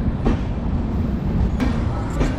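A train rolls along the rails with a continuous heavy rumble and rhythmic clatter, loud and close, with brief higher squeals over the steady noise.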